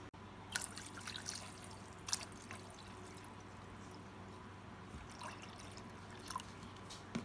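Bottled water is poured into a cup of chamomile tea made from homemade tea bags, a faint, steady trickle with a few soft splashes and clinks, heard alone.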